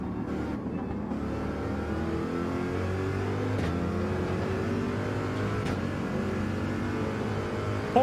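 Porsche RSR race car engine in Gran Turismo 7 drones loud and continuous, pitch climbing and dropping through gear changes with a steady rev, no voices over it.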